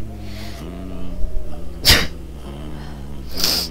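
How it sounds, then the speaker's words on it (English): Two sharp sneezes from a person, the first mid-clip and a second near the end, loud and close over a low steady game soundtrack hum. "I'm gonna sneeze."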